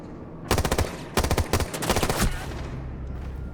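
Automatic gunfire from the OSA rifle in the video game Rainbow Six Siege rattles out in two rapid bursts, loud and close, followed by a quieter ringing tail.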